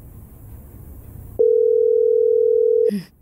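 A telephone dial tone sounds on a call to someone's mother, a single steady, clear tone lasting about one and a half seconds after a quiet stretch, then cut off by a short click.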